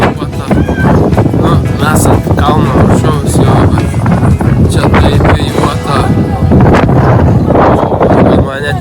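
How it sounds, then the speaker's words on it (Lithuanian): Heavy wind buffeting the microphone throughout, a loud continuous low rumble with gusty roughness, with talking mixed in. "Tik biškį vėjuota."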